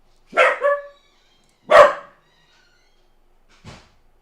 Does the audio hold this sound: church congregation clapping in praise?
no